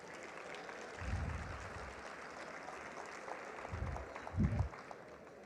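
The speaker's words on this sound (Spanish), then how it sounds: "yo les pido un fuerte aplauso para ella" A conference audience at a national cattle ranchers' congress applauds a moderator, faint and distant clapping spread through a large hall, with a few low thumps as it rises and falls.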